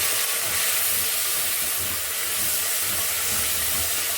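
Tomatoes go into a pan of frying onions, producing a loud, constant steamy hiss of sizzling that runs unbroken and alone.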